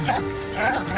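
Small dog yapping and whimpering in quick bursts, close by, mixed with people talking over a television-style interior scene.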